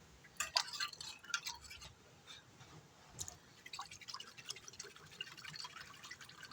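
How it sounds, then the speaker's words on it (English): Beef stock and chicken base being stirred briskly in cold water, with quick clinking of a spoon against the container and light liquid swishing, close and fairly quiet. "this is cold water, so stir it up real fast before it gets hot"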